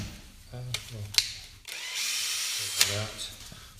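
A woodcarving gouge is sharpened against a powered honing wheel, a steady motorized whir with brief bursts of grinding contact, heard close while people talk over it.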